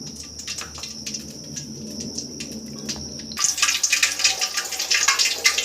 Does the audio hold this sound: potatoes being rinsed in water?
yes